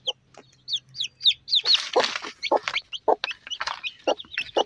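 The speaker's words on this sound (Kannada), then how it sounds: "ಮರಿ ಸೌಂಡ್ ಮಾಡಿದ್ಕೆ ನೋಡಿ ಅಮ್ಮ ಹೇಗೆ ಓಡ್ ಬಂತು ಅಂತೇಳಿ" A native country hen clucks in short, repeated bursts while small chicks cheep in quick, high peeps close by, the calls overlapping in a busy, rhythmic chatter.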